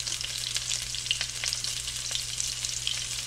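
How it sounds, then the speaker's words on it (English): Sausages brown in a skillet for a sausages, peppers and onions dish, giving a close, continuous sizzle with fine crackling pops over a low steady hum. No one speaks. "While the sausages are browning"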